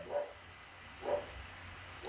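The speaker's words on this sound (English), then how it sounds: "Dogs are barking again." Dogs barking outside, three separate bark bursts spaced about a second apart, moderately distant and fairly faint over a low background hum.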